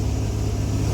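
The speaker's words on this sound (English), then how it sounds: "the truck it'll shut off and then it'll accelerate rapidly and then it'll shut off and then it'll accelerate" A pickup truck engine running hard at full throttle, a loud, steady low roar over this brief moment with no break or cutout evident and no voices.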